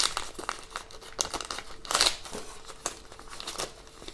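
Packaging of a Rhino Shield screen protector installation kit being opened by hand, close crinkling and rustling of plastic with a sharper tearing burst midway, no talk.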